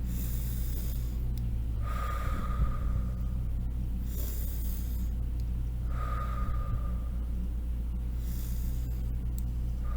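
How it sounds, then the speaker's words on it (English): Deep breaths drawn in during a calming exercise, three slow, audible inhales spaced evenly apart over a low steady background hum. "Remember, we can breathe in."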